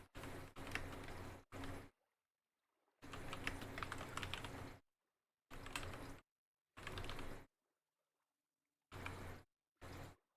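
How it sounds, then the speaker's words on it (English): Close clickety-clack of a mechanical keyboard being typed on, coming in several separate bursts with silent gaps between them and no voices. "the clickety clacks of the mechanical keyboard"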